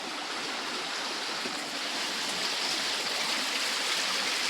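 Steady broadband rush of water pouring over a waterfall and running through a rocky stream in a forest, loud and continuous with no pauses, close by and unbroken for the whole stretch.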